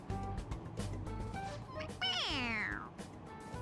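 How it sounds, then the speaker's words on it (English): A cartoonish cat meows in Persona 5 Royal, one drawn-out rising and falling meow standing out over game music and background chatter. "Everyone else hears it as meowing."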